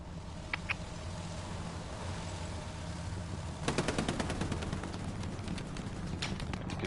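Machine gun fire in the World War II shooter Hell Let Loose, a couple of isolated shots early on, then rapid bursts of automatic fire rattling out at mid distance over a low battlefield rumble.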